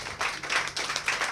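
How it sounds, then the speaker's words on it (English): Talk show audience gives a short round of applause, brisk clapping from a group that pulses briefly and carries no speech. "A big round of applause."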